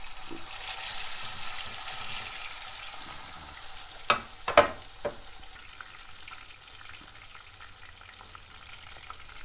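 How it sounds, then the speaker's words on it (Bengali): A steady, soft sizzle of katla fish pieces frying in oil for kalia, broken briefly by a few sharp clinks and scrapes partway through. "আবার এইভাবে মাছগুলো ভেজে দেব বাকি মাছগুলো ভেজে নিচ্ছে"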